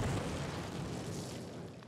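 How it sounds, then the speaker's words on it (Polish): Placed explosives detonating against a cinder block wall in the original Call of Duty game, a broad roaring blast that fills the whole clip and slowly fades, with no talk over it. "Zobaczmy, jak wybuch będzie wyglądał."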